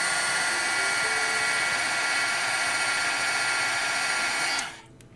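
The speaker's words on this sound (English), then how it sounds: "you run the heat tool over your rubber, again for about a count from 10 to 20" A heat tool blows over a rubber stamp being removed from its wood block, a loud steady whirring hiss held close for several seconds before it switches off and cuts to quiet.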